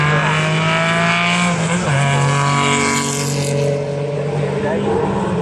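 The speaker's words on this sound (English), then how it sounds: "a good rally car" A rally car at a car festival revs hard and accelerates nearby, its engine pitch climbing and dropping with a brief tire squeal, while a commentator speaks over it.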